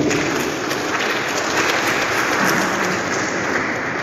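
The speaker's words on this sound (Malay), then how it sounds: "Beri tepuk tangan buat Tuhan" A church congregation applauds for God, a steady, dense wash of clapping that holds evenly throughout without any voices on top.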